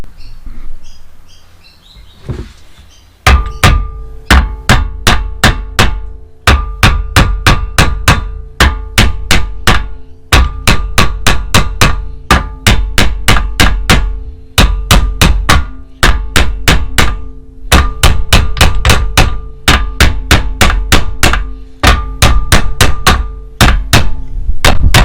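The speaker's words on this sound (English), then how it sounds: "I'm just going to hit this out with a hammer." Sharp metallic hammer blows ring out in a steady rhythm knocking out a Honda Civic trailing arm bushing, dozens of strikes in quick succession with brief pauses between bursts, close and loud.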